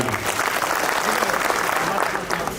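An audience at a BJP women's district gathering in Satara claps loudly and steadily throughout, a dense continuous wash of many hands without pause.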